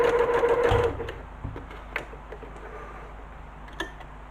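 Home sewing machine stitching zigzag, a short fast whirring burst of needle strokes that stops after about a second, followed by a few faint clicks and taps from the machine.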